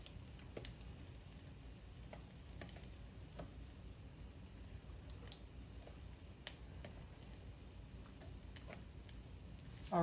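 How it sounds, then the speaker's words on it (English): Bread slices fry in a pan with a faint, steady sizzle, punctuated by soft ticks and light scraping, quiet and close, with no talking. "I'm just gonna turn it over in the pan while I get a couple more slices of bread in here"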